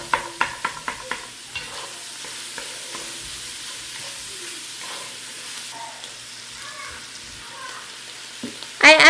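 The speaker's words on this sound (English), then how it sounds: "You're just going to stir that in and let your flour cook" Flour stirred into a pot of Zuppa Toscana soup to cook into a roux: a few quick scraping strokes at the start, then a soft continuous sizzle and gentle stirring, with a brighter clatter at the very end.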